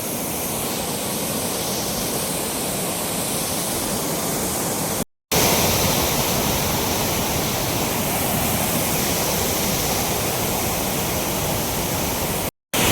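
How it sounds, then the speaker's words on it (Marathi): Floodwater overflows from the Jevali storage lake after heavy rain and rushes in a loud, continuous roar like a waterfall, broken by two brief cuts to silence. "जेवळी साठवण तलाव बघू शकता कशा पद्धतीनं पाणी प्रवाहित होत आहे वाहत आहे"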